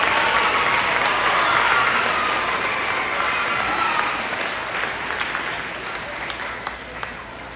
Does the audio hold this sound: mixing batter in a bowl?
no